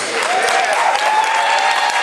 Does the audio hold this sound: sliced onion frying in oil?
no